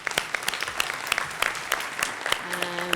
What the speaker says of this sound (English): I'd like to have a round of applause for all of our presenters for today.